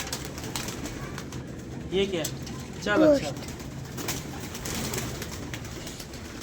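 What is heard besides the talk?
pigeons cooing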